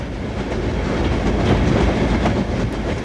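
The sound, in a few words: steam locomotive running past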